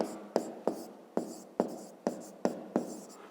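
A pen writes in a notebook in short, close scratchy strokes, each starting with a sharp tap and fading, about eight in a steady rhythm with no talk over them.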